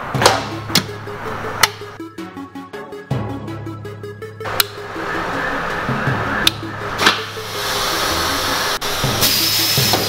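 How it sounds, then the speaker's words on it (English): A screen printing press with replaced valves leaks air, making a hiss that keeps going between sharp mechanical clacks and thumps, with a rapid chattering burst in the middle and the hiss swelling louder toward the end. "I've replaced the valves on this thing. You can hear it just leaking."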